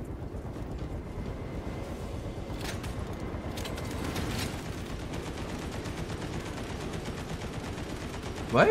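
Sustained rattling gunfire from Space Marine 2 combat rolls on steadily at moderate loudness as a dense, unbroken wash of rapid shots, with faint voices in the mix.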